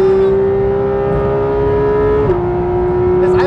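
Porsche 991.2 GT3 RS engine holding a high, steady tone that drops sharply in pitch at an instant gear change, then carries on droning loud and close from inside the car.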